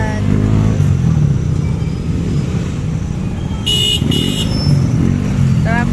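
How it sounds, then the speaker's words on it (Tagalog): Dense city street traffic in Cabanatuan City rumbles steadily with cars and motorcycles passing, a couple of short horn toots sounding midway, and voices talking nearby. "Traffic."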